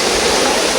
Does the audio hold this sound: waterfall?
yes